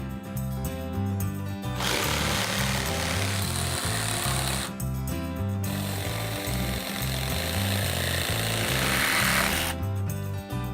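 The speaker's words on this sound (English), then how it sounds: "We're using a circular saw for the long cuts and a jigsaw to finish up the inside cuts." Wood cut for a DIY step stool, a jigsaw's fast chattering reciprocation alternating with long, loud stretches of a circular saw ripping through the board close by.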